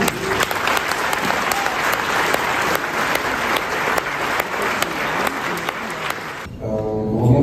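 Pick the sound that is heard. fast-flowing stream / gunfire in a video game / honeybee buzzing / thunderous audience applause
thunderous audience applause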